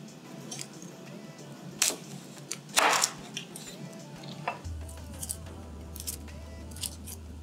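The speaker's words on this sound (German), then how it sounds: "Die Zwiebel wird in halbe Ringe geschnitten." A kitchen knife slicing an onion into half rings on a cutting board, quiet scattered cuts and crisp crunches with one louder slice near the middle, no talking.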